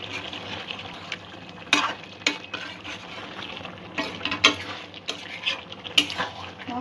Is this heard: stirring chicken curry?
yes